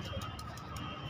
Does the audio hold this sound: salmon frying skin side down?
no